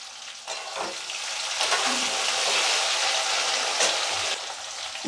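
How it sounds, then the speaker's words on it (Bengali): Potatoes and a couple of green chilies fry in oil tempered with white cumin seeds for a Bengali fish-head and cabbage dish. A steady, close sizzle swells and holds, with occasional stirring scrapes and no talking. "এবার ওতে আলু দেবো, একটু দুটো কাঁচা লঙ্কা দিয়ে দিলাম"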